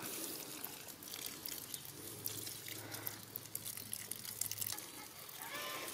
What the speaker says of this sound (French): Et là, ça coule.